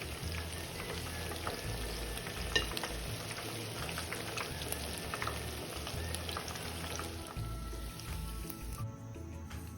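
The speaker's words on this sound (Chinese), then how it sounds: "再将油炸后的洋葱饼再次快速翻炸，油炸个10至15秒即可" Onion fritters deep-fry in hot oil, giving a steady, close bubbling sizzle with occasional pops and stirring or flipping noises, continuing until it cuts off near the end.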